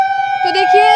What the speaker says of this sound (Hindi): सायरन का आवाज़ आप सुन पा रहे होंगे